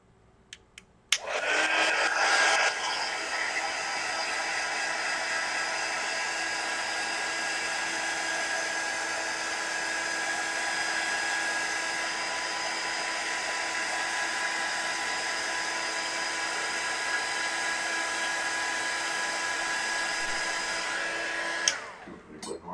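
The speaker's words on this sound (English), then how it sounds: "I'm going to dry it real quick with the heat gun." A heat gun blows hot air to dry fresh paint on an art piece, running as a loud, steady whirring hiss for about twenty seconds from switch-on to switch-off, close and uninterrupted.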